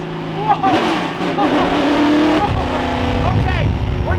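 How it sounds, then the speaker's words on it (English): A Nissan GTR drives hard to warm its tires, with engine revving and squealing, skidding rubber under excited voices in the car. "we're getting the tires warmed up."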